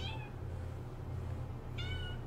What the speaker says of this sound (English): Oh, be quiet, kitten.